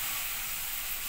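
Arbi chicken frying in hot oil, a dense, steady hiss of sizzling heard close and continuous through a brief moment, with no voices.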